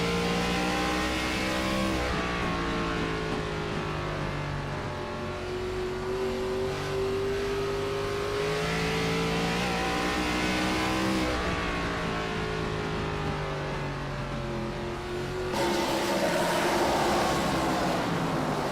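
Race car engines in an ARCA Series sim race at Nashville Fairgrounds, droning and revving continuously with rising and falling pitch as the cars run laps, loud and steady throughout.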